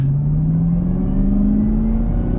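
A 2021 Chevrolet Camaro ZL1 1LE pulls away from a dealership lot, its engine note climbing steadily in a loud, close, continuous rev with a deep rumble underneath.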